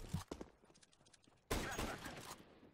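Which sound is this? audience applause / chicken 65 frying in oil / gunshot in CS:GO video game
gunshot in CS:GO video game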